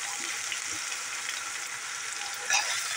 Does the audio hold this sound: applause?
no